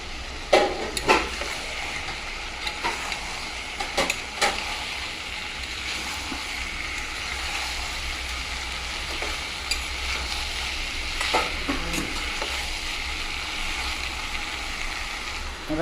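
Boiled young jackfruit and potato fry in a pan with a continuous sizzle, broken by scattered scrapes and clacks of a spoon stirring against the pan.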